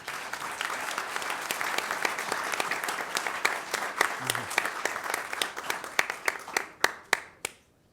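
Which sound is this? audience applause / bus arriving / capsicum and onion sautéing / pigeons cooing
audience applause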